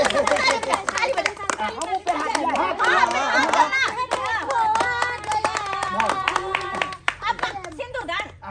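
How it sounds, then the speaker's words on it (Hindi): Hands clap steadily at a jaimala garland exchange during a village wedding, a crowd of adults and children clapping together with chatter and children's voices mixed in, fading toward the end. "ताली बजा"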